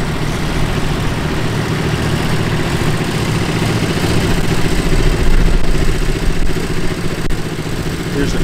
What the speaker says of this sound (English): Here's an International 234 utility tractor.